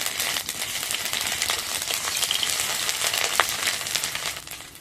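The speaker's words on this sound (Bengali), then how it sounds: "5 ফোড়নটা তেলের উপর দিয়ে দিচ্ছি" Panch phoron seeds sizzle and crackle in hot oil in a pan, a steady close frying hiss with small pops and one sharp metallic clink, no talking.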